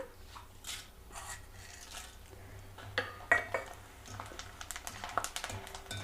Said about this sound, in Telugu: పటపట శబ్దం వస్తానే తీసేస్తున్నానండి.